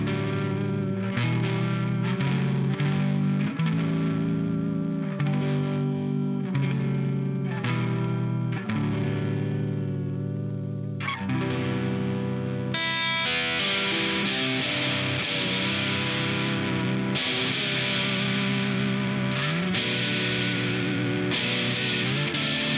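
Electric guitar played through a Voland Rusty Boi distortion pedal with bass cut and treble raised to about 75%, heavy fuzzy riffs and sustained chords, close and loud with no talk.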